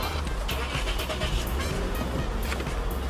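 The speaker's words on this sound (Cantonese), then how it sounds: "發動機嘅聲又幾靚" A 10-year-old 13th-generation Toyota Crown with a 2.5 engine runs steadily nearby, giving a continuous, even rumble with broadband road-like noise and no talking.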